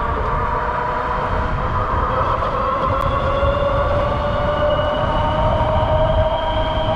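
An Ariel Rider Grizzly e-bike with both motors engaged in boost mode gives a loud, steady electric whine over constant wind rush, sustained throughout with no voices.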